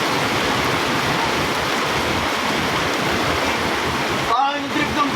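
Heavy rain pouring down during a commute home from work, a dense, loud and steady hiss of falling water that changes briefly near the end.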